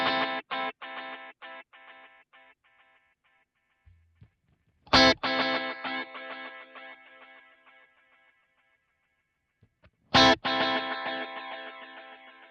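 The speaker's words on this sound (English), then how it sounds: "And this is the sound from this space echo." Electric guitar run through a Roland Space Echo tape delay: three separate plucked phrases, each trailing off in long, loud repeating echoes that decay into silence, with no talking.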